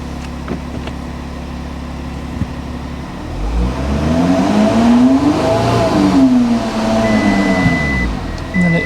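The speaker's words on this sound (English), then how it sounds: "Have to rev it a lot to get it to move." A half-repaired Volkswagen Touareg with a gearbox fault revs loudly and steadily to get moving, the engine note climbing and falling close by for several seconds.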